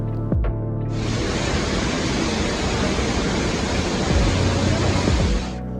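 A Lauterbrunnen waterfall in the Swiss Alps pours with a steady, dense roar that surges in abruptly, holds loud and even for several seconds, then cuts off.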